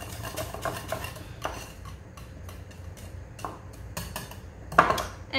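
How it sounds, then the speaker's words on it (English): Popsicle mixture being whisked in a bowl: soft, uneven clinks and scrapes of a whisk against the sides, with a louder clatter near the end, quiet and close with no talking. "So I'm gonna whisk it up again."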